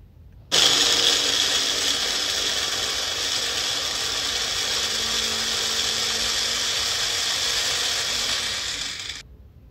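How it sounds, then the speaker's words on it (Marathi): A kitchen mixer grinder grinds peeled garlic cloves with a loud, steady high-pitched whine that starts abruptly, holds evenly for about nine seconds, then cuts off, with no talk. "लसूण मिक्सर मध्ये मी ग्राइंड करून घेणार आहे सर्वात आधी"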